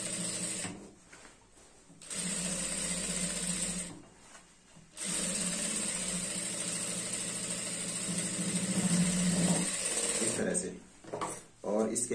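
An electric sewing machine stitches a pant waistband in two sustained, steady runs of rapid mechanical whirring, separated by short pauses, with a voice talking briefly near the end.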